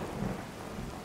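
Steady rain with rumbling thunder in the video game Fallout 4, a dense continuous wash that stays loud and even throughout with no voices.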